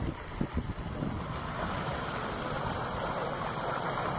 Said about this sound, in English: That is water that's rushing over from one of the reservoirs down to another.